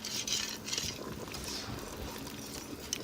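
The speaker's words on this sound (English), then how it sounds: "I'm gonna actually stir it in a little bit now, kind of incorporate it before I add the milk" Flour being stirred into Instant Pot Philly cheesesteak soup, a soft, continuous scraping and swishing of a spoon through the thick mixture in the metal pot, steady and close with no voices.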